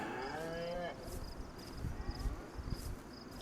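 A cow moos in the DayZ survival video game, a single drawn-out call that is loud and close for about a second before fading into ambient game noise and footsteps.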